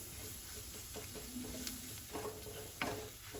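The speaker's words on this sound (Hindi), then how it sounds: "इसे अच्छे से भून लेंगे, इसका कच्चापन निकाल लेंगे मक्की के आटे का" Cornmeal flour roasts and is stirred in a pan, giving a soft, low sizzle with faint scraping strokes and a couple of light clinks, quiet and close with no voices.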